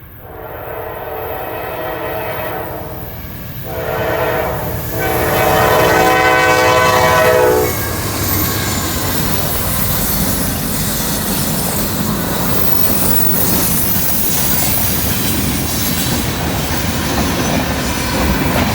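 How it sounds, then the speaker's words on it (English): A Norfolk Southern freight train with six locomotives rumbles past in snow with a loud, sustained horn blast, followed by continuous rolling clatter and wheel noise. "here comes another train"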